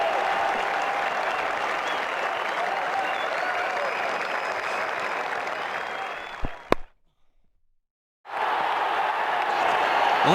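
Test match cricket crowd in India versus Australia applauding a shot with sustained, loud clapping from a large stadium audience, cutting abruptly to near silence before the applause resumes.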